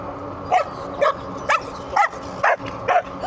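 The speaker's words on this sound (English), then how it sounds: "Dog's barking at the lady there, and now he's gonna bark at me." A dog barks at a passing cyclist outdoors, six evenly spaced sharp barks about half a second apart, fairly close, over steady road and wind noise.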